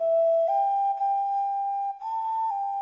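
A clay sazsyrnai, an ancient whistling flute much like an ocarina, plays a loud, pure, breathy tone. The note holds steady, then steps up in pitch a few times over about three seconds, with no other sound.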